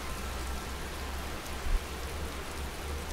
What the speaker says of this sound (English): And when should the rain stop?